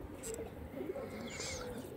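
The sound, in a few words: pigeons cooing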